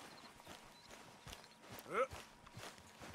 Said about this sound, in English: Dude, I need to ride the horse to get out of the camp.